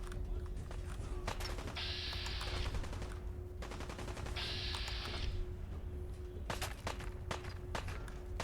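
Gunfire in the video game Fallout 4, a steady stream of dense rapid shots and clattering impacts running throughout, with brief higher electronic bursts recurring over the continuous loud combat noise.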